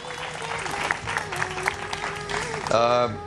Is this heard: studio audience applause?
yes